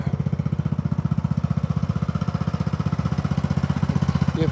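An old Craftsman lawn mower with a single-cylinder engine and ball tires runs steadily nearby, a loud, even chugging drone with a rapid regular firing pulse throughout.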